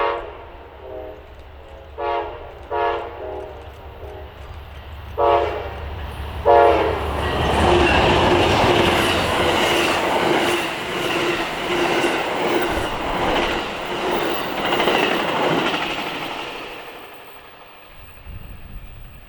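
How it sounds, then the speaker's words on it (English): An Amtrak GE P42DC diesel locomotive sounds its Nathan K5LA horn in several short blasts, then rumbles past loudly with continued horn and rattling wheels before fading, in Buffalo, New York. "here it is approaching us, with a friendly engineer at the helm, with a beautiful sounding Nathan K5LA"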